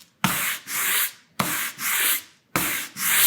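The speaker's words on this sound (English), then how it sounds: "we're gonna take our 60 grit and we're gonna go through our white" Coarse 60-grit sandpaper rubs through a white painted layer in three long, loud back-and-forth strokes, a close, gritty scratching with brief pauses between passes.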